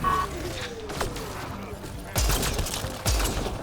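Bursts of gunfire from a weapon fired against Kett enemies in the sci-fi game Mass Effect: Andromeda, loud sharp volleys with two heavy blasts near the end over game ambience.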